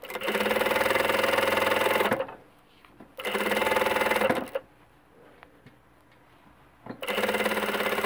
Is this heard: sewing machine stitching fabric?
yes